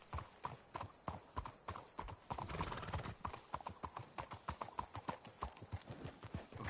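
Horses' hooves clip-clop in the Red Dead Redemption video game, a steady rhythmic clatter of several hoofbeats on hard ground, fairly close and even, with an occasional snort or whinny.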